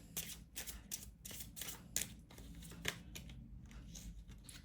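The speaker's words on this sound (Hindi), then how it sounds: "कार्ड निकाल लेते हैं।" Tarot cards are drawn from a deck in a series of soft, papery slides and flicks at an uneven rhythm, close and quiet, with no talking over them.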